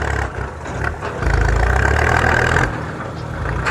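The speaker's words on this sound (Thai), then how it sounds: "เหลือแต่รถไถครับ รถแมคโครครับ เก็บงานครับตอนนี้" A Hitachi EX130 excavator engine runs steadily during land clearing with a low, continuous rumble that swells louder for a couple of seconds before settling back.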